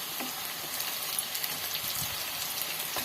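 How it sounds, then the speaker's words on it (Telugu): Eggplant pieces dropped into a pan of frying onions, a continuous crackling sizzle with small spatters, heard close and steady with no talking. "ఆ ఉల్లిపాయలు కొంచెం వేగిన తర్వాత మనం ఈ వంకాయలను అయితే వేసుకోవాలి"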